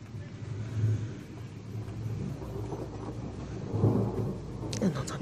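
Deep, low rumbling thunder from a storm in Chénens, 2019, rolling in the distance, with a louder swell partway through and faint background noise.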